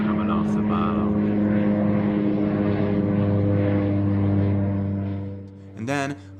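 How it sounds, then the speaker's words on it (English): A propeller plane flies low overhead in the evening, reportedly spraying something. Its loud, steady droning hum has a strong harmonic whine that fades slightly near the end as a brief, different sound cuts in. "This plane flew over me this evening and was spraying something."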